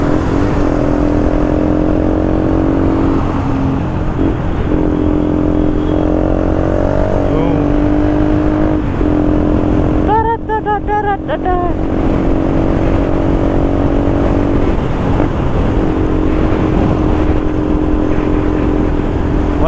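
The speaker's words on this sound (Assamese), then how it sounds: "সেইকাৰণে বাইকৰ চাউণ্ড চাগে অলপ অলপ আহি আছে।" A motorcycle engine drones steadily while riding on a dusty road near Guwahati, a loud continuous hum with wind noise, under someone talking, with a brief horn-like tone midway.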